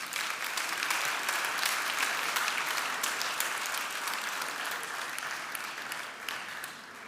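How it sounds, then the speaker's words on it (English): An audience at a university excellence awards ceremony claps for the teaching and learning award recipients, a steady, even round of applause heard from a moderate distance that fades slightly toward the end. "I think all the recipients deserve a round of applause."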